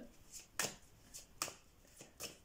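Angel oracle cards are shuffled in quiet, close bursts, with about five or six soft riffling swishes at irregular intervals and no talk.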